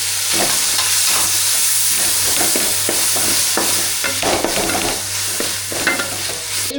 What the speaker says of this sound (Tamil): வெங்காயம் நல்லா வதங்கிடுச்சு இது கூட இஞ்சி பூண்டு பேஸ்ட்டை சேர்த்துக்கலாம்